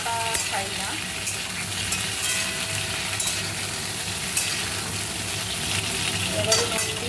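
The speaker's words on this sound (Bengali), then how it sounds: "সর্ষে ফোড়ন দিয়েছি, শুকনো লঙ্কা" Mustard seeds and dried chillies tempering in hot frying oil for a dal, a steady close sizzle and crackle with faint stirring scrapes running throughout.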